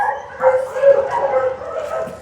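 Small shelter dog whimpering and yipping up close in soft, rising whines, with someone speaking gently over it.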